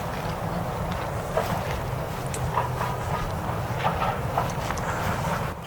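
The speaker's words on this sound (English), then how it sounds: "Apologies for the tractor noise." Low engine rumble of a tractor working in a nearby field in the English countryside, a steady droning hum running continuously under outdoor wind noise.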